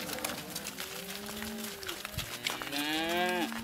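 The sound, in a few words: cattle mooing in sorting pasture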